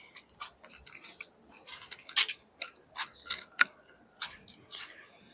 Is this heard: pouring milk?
no